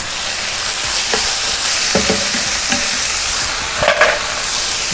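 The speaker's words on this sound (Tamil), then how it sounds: "ராஜ்மா ஆட் பண்ணிட்டு கொஞ்சம் நல்லா மேஷ் பண்ணிட்டேன்." Cooked kidney beans (rajma) for a quesadilla are mashed in a hot pan, giving a continuous sizzle broken by soft, irregular scraping and pressing strokes, close and clear with no talking.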